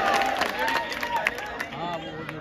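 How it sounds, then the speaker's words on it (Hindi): Audience at a mushaira poetry gathering in Sandila breaks into dense, sustained applause and cheering, a lively crowd roar with scattered claps blending into background babble throughout. "जोरदार तालियों से"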